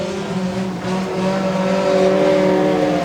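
Junior sedan race cars driving through turns at a speedway, a loud sustained engine drone with layered tones rising slightly as the pack carries on through the bends.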